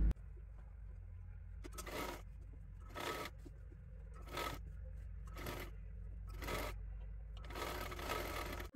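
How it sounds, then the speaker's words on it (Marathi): A sewing machine stitches lining fabric along the edge in a round shape, running in quiet bursts broken by short pauses and softer rubbing of cloth, all at low volume. "एकदम कडेकडेला आपल्याला गोल आकारामध्ये शिलाई करून घ्यायचं आहे"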